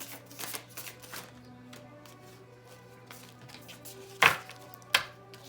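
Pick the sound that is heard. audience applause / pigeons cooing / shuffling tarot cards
shuffling tarot cards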